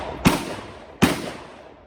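Two sharp, suppressed rifle shots crack at an outdoor range, about three-quarters of a second apart, each a quick, loud snap that decays quickly against a low background hiss.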